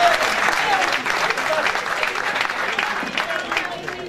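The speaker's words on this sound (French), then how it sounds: "Applaudissons pour elle." An audience at a PDS party event gives a loud, sustained round of applause for the speaker's mother. The dense clapping holds steady for the full stretch, with a crowd murmur underneath.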